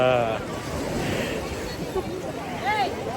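Sea waves washing onto a beach at sunrise make a steady broadband roar under wind noise, while voices and a child's high call are heard over it.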